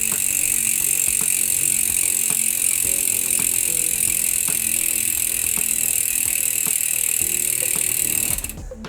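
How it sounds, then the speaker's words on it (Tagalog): Bicycle wheel with a tubeless tire being spun by hand to spread freshly added sealant, its hub pawls giving a steady, fast ratcheting buzz close up that runs continuously and then stops abruptly at the end, with no talking. "paikutin natin yung gulong para umi-spread yung sealant"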